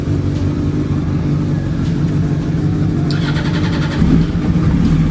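A BMW 550i E60 car engine idling with a steady low rumble, then revving once with a brief rise, heard up close and loud with no talking.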